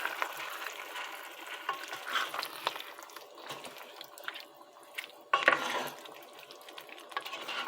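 Cooked beef steak added to a pot of fresh okra stew and stirred in, giving soft wet sizzling, liquid sloshing and scraping, with a sharp clatter partway through, fairly quiet and close.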